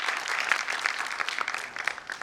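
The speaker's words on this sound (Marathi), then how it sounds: "जोरदार टाळ्या झाल्या पाहिजे आपल्या सगळ्या पार्टिसिपेंटसाठी" An audience at a dance and modelling show applauding the participants, a steady wash of many hands clapping at once, fairly loud and continuous throughout, with no distinct voices over it.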